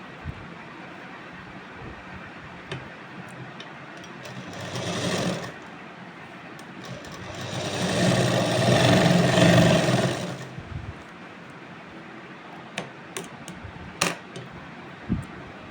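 Sewing machine stitching a Rajasthani suit blouse (kanchli), a muffled steady whirring run of several seconds after a shorter burst, with scattered handling clicks around it.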